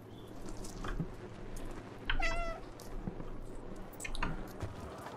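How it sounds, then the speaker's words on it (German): A cat character in the video game Stray meows once, a clear rising-falling call in the middle, over a steady game ambience with faint dripping and soft thuds. "Erstmal schön miauen."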